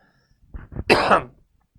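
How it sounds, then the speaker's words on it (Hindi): A single close, harsh cough with a couple of short throat bursts leading into it, then quiet. "मुझे थोड़ी खांसी हो रही है"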